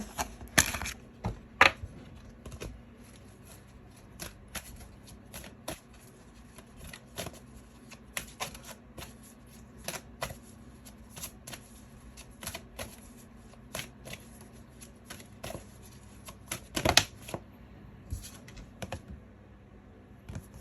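Playing cards shuffled and flipped for a fortune-telling reading, giving a steady run of soft, close riffling and snapping clicks with a few louder slaps, heard alone without talk.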